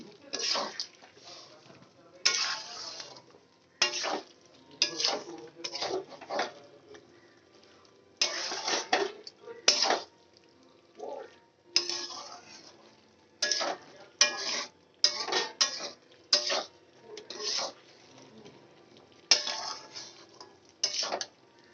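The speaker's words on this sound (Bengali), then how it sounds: "এবার ভালো করে কষিয়ে নেব।" Onion paste frying in a chicken curry pan as a spoon stirs it, giving repeated bursts of scraping and clattering against the pan in an irregular rhythm with quieter sizzling gaps between them, close up.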